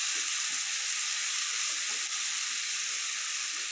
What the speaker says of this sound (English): the liquid starts to steam with it boiling like that, and that helps to reduce it